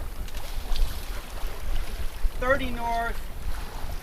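A sailboat under sail on the open sea during a solo offshore passage: a steady rush of wind and water fills the scene, with someone speaking briefly near the middle.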